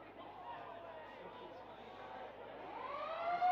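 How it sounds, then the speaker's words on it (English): Final siren at a WAFL Colts Australian football match between West Perth and Subiaco, a sustained tone rising near the end over a steady crowd roar and a commentator's voice. "there's the siren"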